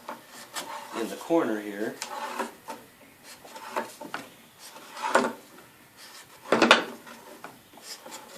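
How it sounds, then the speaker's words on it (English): Utility knife blade scraping tape down onto wood in short, one-directional strokes, several rasping bursts heard up close, with a brief spoken remark in between. "I take my utility knife and kind of like scrape in one direction to adhere it"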